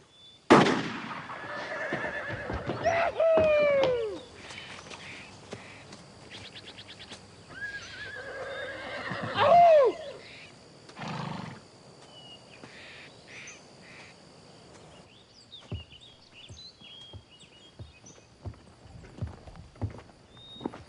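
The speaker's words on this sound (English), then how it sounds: "That's your horse, sir?" A horse whinnies loudly twice, the calls a few seconds apart, against faint background sounds, with scattered clip-clop of hooves and a few sharp knocks in between; nobody speaks.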